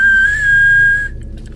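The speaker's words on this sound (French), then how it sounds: "Gros gars qui siffle." A man whistles one sustained, steady high note for about a second, loud and close, then it fades out into quiet background hum.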